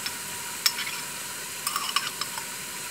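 Minced garlic fries in a pan with a thin, steady sizzle, broken by a few sharp clinks and scrapes of a utensil stirring it.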